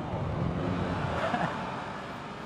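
Racing cars in an iPhone 5 racing game, heard as a steady, dense roar of engines and road noise that holds at an even level with no distinct passes or breaks.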